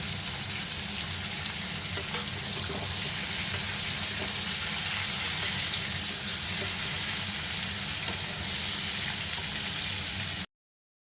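Cauliflower frying in an open pan gives a continuous, even sizzle that runs close and steady for about ten seconds, with a few faint clicks scattered through it and no one talking.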